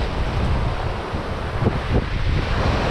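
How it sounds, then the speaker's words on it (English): Wind and breaking surf roar steadily on a steep shingle beach where rays are fished, a dense rushing wash with a couple of heavier wave surges near the end. "when it's windy and the waves are like this"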